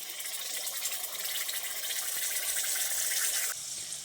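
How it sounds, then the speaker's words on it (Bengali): A little water is poured from a bowl into a pan holding a yogurt mixture, a close, steady gushing splash that cuts off abruptly near the end. "বাটিতে অল্প জল দিয়ে সেটা দিয়ে দিচ্ছি।"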